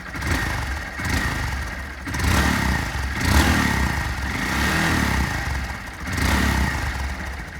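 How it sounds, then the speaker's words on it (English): A 2020 Honda Monkey ABS motorcycle revs repeatedly, its engine climbing in several sharp surges over a steady idle, loud and close with no voices. "I'll give you some revs."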